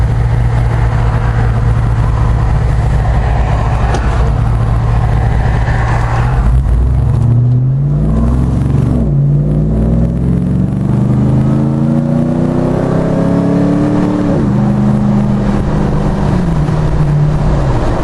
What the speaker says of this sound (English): MagnaFlow 50 series muffler in this. It's got a little bit of a grunt to it.